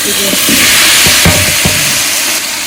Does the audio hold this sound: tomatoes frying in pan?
yes